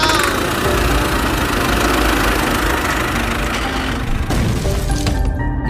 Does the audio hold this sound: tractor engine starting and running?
yes